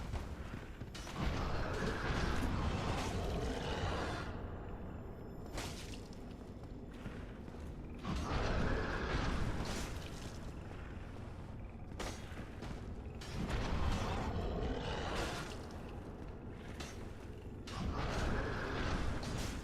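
Elevator in Dark Souls running with a continuous low mechanical rumble and creaking, marked by a recurring heavy thump roughly every few seconds as it moves, loud and steady with no talking.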